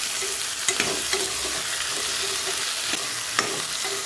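Vegetables with potato fry for a simple vegetable palav, giving a steady close hiss and crackle in the pan with a few sharp scraping clicks of a stirring utensil, and no one speaking.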